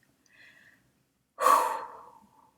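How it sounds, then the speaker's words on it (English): A slow, deep breath drawn in during a guided prayer, quiet and close, followed by a louder exhaled sigh that fades over about a second. "Just take a deep breath."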